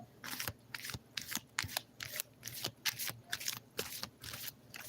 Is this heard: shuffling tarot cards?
yes